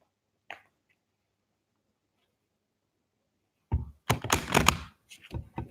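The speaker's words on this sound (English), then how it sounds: "I'm gonna shuffle the cards" Tarot cards from a witch-themed deck shuffled by hand: a single soft tap, a long quiet pause, then a close, crisp riffling burst of card flutters and slaps in quick succession.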